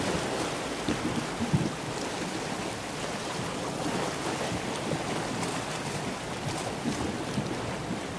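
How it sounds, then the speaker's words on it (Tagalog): Small waves wash onto the shore at a beach resort in Sariaya, Quezon, a steady broadband surf hiss with faint breeze across the mic and no talking. "Malon-alon lang siya konti."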